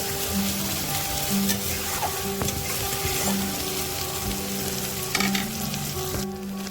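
Tomato and ginger masala fries in a pan for an elephant foot yam (ol) dalna, giving a continuous loud sizzle broken by a spatula's scraping strokes, with no voices.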